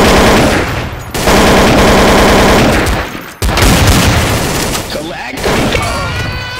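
Dense, loud automatic gunfire from a Counter-Strike: Source match, sustained bursts with a brief gap midway and shouting voices mixed in.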